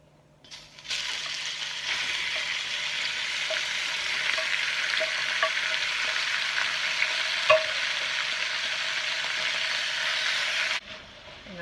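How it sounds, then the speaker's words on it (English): Beef hits hot oil in a wok and sizzles loudly and steadily for about ten seconds, with faint clinks of stirring, then cuts off abruptly. "It's probably going to get a little loud, all the sizzle. So I'm going to get some oil in the pan. I'm going to add my beef."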